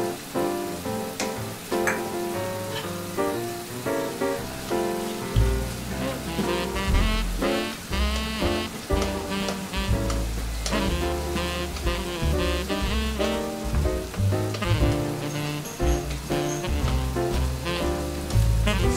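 Mushrooms stir-fried and braised in a pan with dashi, mirin, sugar and soy sauce give off a steady, dense sizzle that runs unbroken, close and fairly loud, with no talking.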